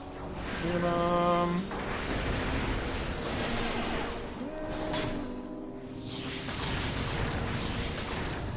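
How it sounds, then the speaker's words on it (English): Explosions from area attacks in the video game Final Fantasy XIV, a dense wash of bursts and booming blasts layered with whooshing effects and a faint musical tone, continuous and fairly loud throughout. "Explosions. More of them."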